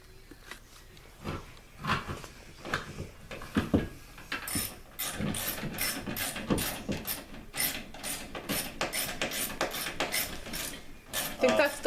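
A socket wrench ratchets long bolts into a television wall mount, its rapid pawl clicks rising in steady bursts through the second half, with someone talking intermittently over the early strokes.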